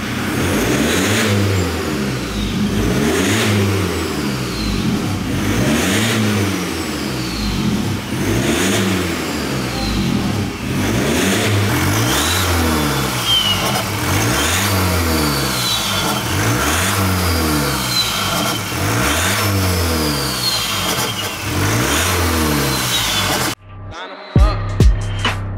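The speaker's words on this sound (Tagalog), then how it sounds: "So ngayon, papakita natin yung exhaust system." A Ford Raptor fitted with a new downpipe and exhaust system revs loudly and continuously in a deep, rising and falling roar, close by, before cutting off abruptly near the end, followed by a few brief knocks.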